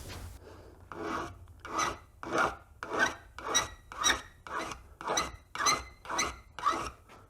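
A file rasps across a paint scraper blade in about eleven steady, evenly paced strokes, each a bright scraping rub, close and fairly quiet, with nothing else heard.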